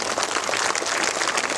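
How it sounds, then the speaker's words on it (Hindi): Dense applause from an audience at a Buddhist dhamma flag-hoisting ceremony, a steady wash of many hands clapping throughout. "अभी तालियां तो बहुत बज रही हैं"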